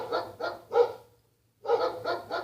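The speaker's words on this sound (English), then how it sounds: "think they're barking at a squirrel or something" Dogs bark in two quick bursts of three and four sharp, close barks separated by a brief silence, with a low hum running underneath.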